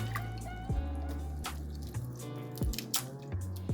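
Thawed shrimp are peeled and deveined by hand, giving close, wet squishing and soft dripping clicks at irregular intervals with no talk.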